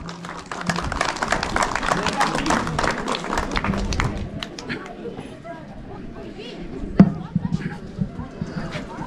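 Crowd clapping welcomes a district mayor at a town anniversary ceremony in Peru, dense and steady at first, then thinning into scattered claps, with voices mixed in.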